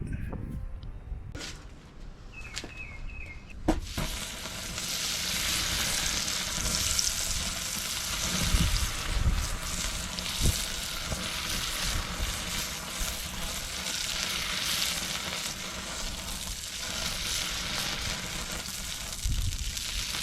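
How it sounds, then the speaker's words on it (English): A hot elk knife blade, only its cutting edge and tip dipped into quenching oil beside a forge, sets off a loud, sustained hissing sizzle with crackling that persists for many seconds after a few metallic clanks. "I'm only putting the cutting edge of the blade and the tip into the oil"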